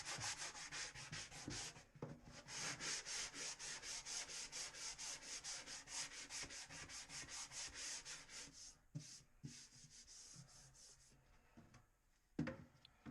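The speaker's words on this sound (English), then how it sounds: "So after a while, we're going to break out the power tool." A rapid, even buzzing scrub of a sander working over putty, close and steady, one long stretch that falters and trails off into a few scattered scrapes and a sharp knock near the end.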